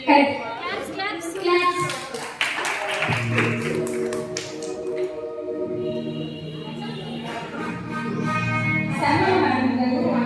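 Applause for a winner at a youth Christmas quiz competition in a church, scattered hand claps mixed with children's voices and a speaker talking through it, lively and close.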